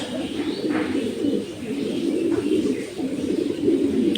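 Female racing pigeon cooing at a loft in Tangail, a steady run of soft, low, throaty coos rolling on continuously at close range with no talk.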